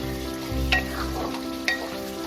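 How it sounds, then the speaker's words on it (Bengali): Dry spicy potato curry with garam masala stirred in a hot pan, a steady sizzle with a couple of sharp scrapes of the spoon against the pan, no talking. "এবার আমি এতে হাফ টিস্পুনের মতো গরম মশলা দেব, দিয়ে এটাকে ভালো করে মিশিয়ে"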